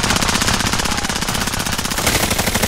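Rapid automatic gunfire in an online shooter video game, loud and continuous, with dense repeated shots and no pauses.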